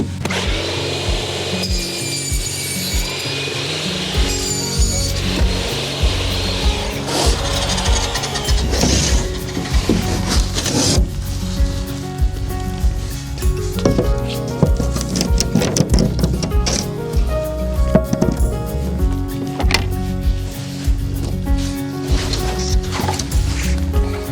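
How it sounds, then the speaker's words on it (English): A power saw cuts a piece off a wooden board, a loud continuous whining and rasping buzz that rises and falls as the blade runs through the wood. "I'm going to cut off a piece that is 11 1/16 inches wide"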